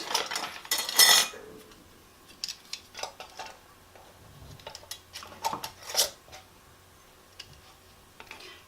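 Metal canning lids and screw rings clink and tick against glass jars of ground beef being prepared for canning, with a cluster of sharp clatters at the start and then scattered light metallic taps, close and moderately loud, with no talking.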